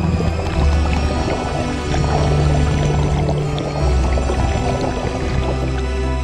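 Broad, steady roar of water crashing into a turbulent pool at the foot of a falls, loud and close, with churning low rumble and splashing texture throughout.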